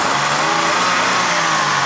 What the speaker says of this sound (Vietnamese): Đấy, động cơ máy rất là khỏe luôn. Xe thì căng nét, hơi ga.